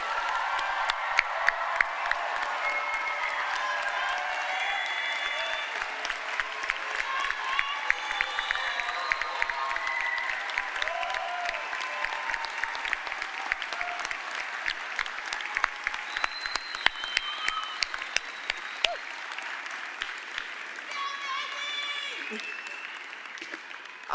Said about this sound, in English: please join me in applauding the June 2025 graduates